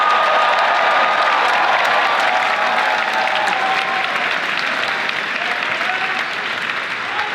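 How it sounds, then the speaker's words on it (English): A large crowd at an Andrew Yang campaign rally at George Mason University, Virginia, claps steadily in a dense, sustained wash of applause with a few faint cheers, fading slightly toward the end. "Let's give Dylan a round of applause."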